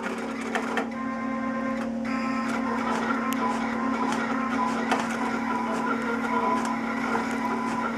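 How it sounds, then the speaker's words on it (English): Cutting machine working through a selective adhesive mask under a closed cover, a steady electric hum with a sustained tone, plus faint ticking and brief shuffling movements of the blade carriage, quiet and with no talk. "It is now cutting the mask."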